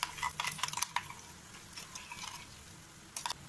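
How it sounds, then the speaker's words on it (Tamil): A spoon scrapes and clinks through ground masala paste in hot oil in a pan, quiet irregular stirring strokes with a soft sizzle, clustered at the start and again near the end. "இப்போ இதை நல்லா இந்த எண்ணெயிலே நல்லா மிக்ஸ் பண்ணிக்கலாம்"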